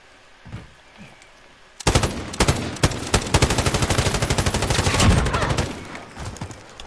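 A light machine gun fires in Call of Duty Modern Warfare: after a short quiet lead-in, it breaks into loud, sustained rapid automatic fire, dense and continuous to the end with little let-up.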